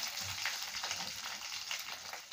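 Curry leaves and asafoetida frying in hot oil for a tomato thokku, a steady soft sizzle with faint crackles running throughout at low volume.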